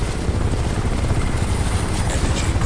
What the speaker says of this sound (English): this helicopter is shooting me through a grass